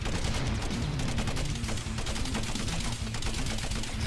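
Missiles fire in rapid succession in the space shooter game Nightstar: Rogue Wings, a dense, loud, continuous barrage of crackling bursts with no pauses, with no voices.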